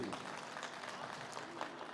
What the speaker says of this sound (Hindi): आप जोरदार तालियां बजा सकते हैं जी